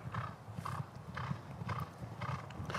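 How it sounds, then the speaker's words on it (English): Horse hooves clip-clopping on a hard floor at a racing stable, a steady walking rhythm of distinct clops, moderately close, with no talking over them. "That's that nice horse you were talking about."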